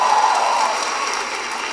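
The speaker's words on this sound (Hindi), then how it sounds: "एक बार जोरदार ताली बजा दो सबके लिए भाई।" A crowd at a live comedy show claps loudly at first, the applause thinning and fading over a couple of seconds.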